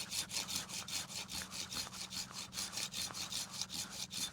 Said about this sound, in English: make a nice clean cut perpendicular to the branch